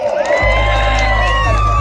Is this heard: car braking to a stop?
no